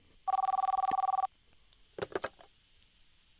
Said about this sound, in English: And I'm getting a phone call.